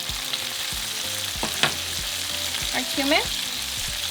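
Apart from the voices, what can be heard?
onions, tomatoes and garlic sizzling while cooking in a pan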